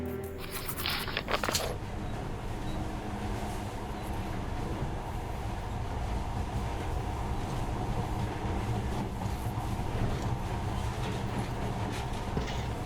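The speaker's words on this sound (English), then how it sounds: "this monorail seems magic, doesn't it?" A monorail in the shooter game Metro Redux rumbles steadily through a tunnel, a dense low rolling drone that carries on without a break after a brief clatter at the start.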